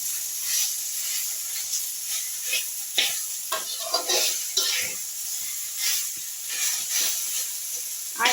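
Potatoes stirred into frying spices in a pan: a steady sizzle broken by repeated scraping and stirring strokes, close up, with some speech now and then.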